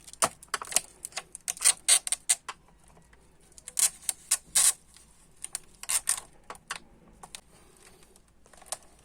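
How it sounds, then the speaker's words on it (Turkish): Plastic retaining clips on an HP 530 laptop being pried loose with a screwdriver: a run of sharp, irregular clicks and snaps in close bursts, with quiet gaps between, and no talking. "O tırnakları tornavida yardımıyla yerinden kurtaracağız."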